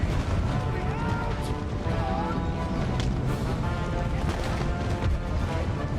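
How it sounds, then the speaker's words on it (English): Cannon artillery fire in the video game Empire: Total War keeps booming and crashing under a steady din of battle, with distant shots and impacts layered densely throughout. "Shoot those cannons, please."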